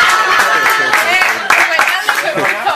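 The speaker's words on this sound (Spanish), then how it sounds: "Gracias por los aplausos." Audience clapping after a joke during a comedian's stand-up set, scattered applause mixed with laughter and chatter, fairly close and loud.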